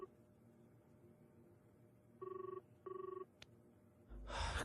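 An old-style telephone bell rings twice in quick succession in a Punjabi film scene, each burst a loud, even trill over a quiet room hum, followed by a sudden rush of noise.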